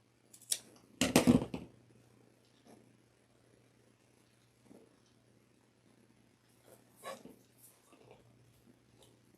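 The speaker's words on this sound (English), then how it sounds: "Let's cut this little piece of this trim off." Scissors snip through rickrack trim for a handmade angel wreath: a short crisp burst of cutting close by, followed by faint scattered rustles and handling noises over a low steady hum.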